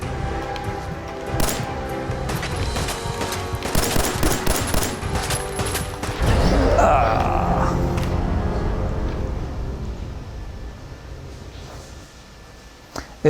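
Gunfire in the video game Fallout 4 comes as rapid bursts of shots early on, then a loud blast and a fading rumble, with no talk over it.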